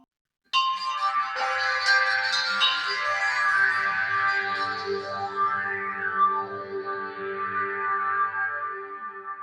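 Audiofier Vesper synthesizer patch with a reversed second layer: a bright, shimmering sustained tone with bell-like harmonics and sweeping pitch curves, entering abruptly and holding steady for several seconds with no talking.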